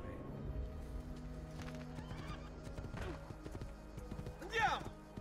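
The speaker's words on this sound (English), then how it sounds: "Well, I guess we'll just take this horse." Horse hooves clip-clop in the Assassin's Creed II video game, a steady trotting rhythm under background game sounds, with a horse whinnying near the end.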